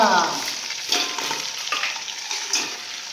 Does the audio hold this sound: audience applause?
no